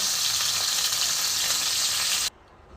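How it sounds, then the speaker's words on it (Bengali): Rohu fish heads frying in hot oil, a loud, dense, steady crackling sizzle heard up close that cuts off abruptly near the end, with no voices. "নিচের দিকগুলো কাঁটা ছিল বলে বন্ধুরা একটুখানি নিচের দিকগুলো ভেজে নিচ্ছি"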